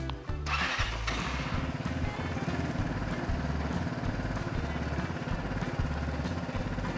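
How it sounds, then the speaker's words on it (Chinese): An Aeon Brera X scooter engine idles after starting, a steady low mechanical putter with a regular pulsing beat that runs unbroken at moderate level, close by. "放着开启引擎"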